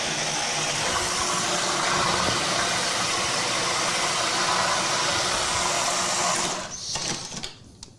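A blender whirs steadily at high speed pureeing taco sauce for elk street tacos, a loud continuous motor roar that cuts off near the end.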